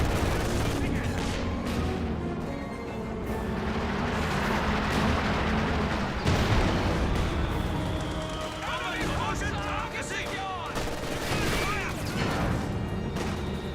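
Bofors guns and white phosphorus barrages in Company of Heroes 2 boom and crackle in a dense, continuous battle din, heavy thuds mixed with scattered impacts, running under a commentator's talking.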